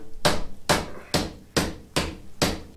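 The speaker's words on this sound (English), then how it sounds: "you can hammer it in" A part is hammered into a metalworking dividing head with six sharp, evenly spaced metallic blows, loud and close, each ringing briefly before the next strike.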